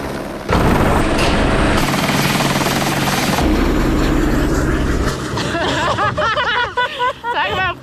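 A helicopter's loud, steady rotor roar fills the clip during a heli-skiing trip in Alaska, with people talking over it near the end.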